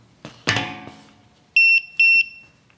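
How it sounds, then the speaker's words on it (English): A non-contact voltage detector built into a multifunctional wire stripper gives two loud, clear high-pitched beeps in quick succession, following a few handling clicks and knocks. "if anything is energized, you'll get the beeping sound"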